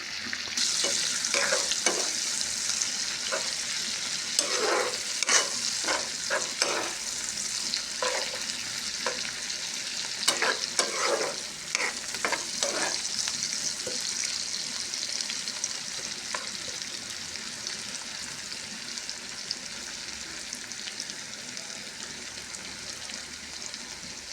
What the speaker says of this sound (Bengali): দেখেন এগুলো পেঁয়াজ বেরেস্তা পেঁয়াজের তেলের ভিতরে ভেজে